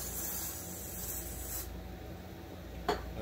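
Brake cleaner hisses from an aerosol can onto chainsaw parts during an engine rebuild, a steady spray that cuts off partway through, followed by faint rubbing and a brief clack.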